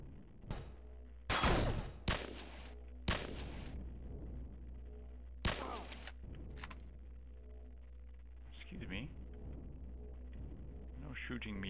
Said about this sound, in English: Shooting me from across the room like that